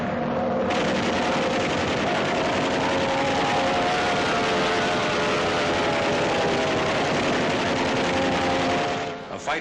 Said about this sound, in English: The Focke-Wulf 190 controls the flight of both planes, each of which provides its own power.